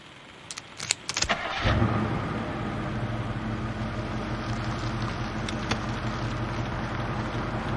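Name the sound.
car driving on country roads at night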